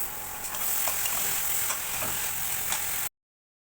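Lentils are stirred with spices in a cooking pot for Gobindobhog rice khichuri, giving a steady scraping and sizzling with a few soft knocks for about three seconds before the sound cuts to silence.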